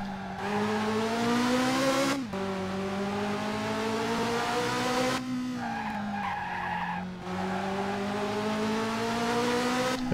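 Ferrari F355 engine whining at high revs in the F355 Challenge racing game on Dreamcast, with tyres squealing through a corner and the pitch shifting as the car brakes and accelerates, steady and unbroken.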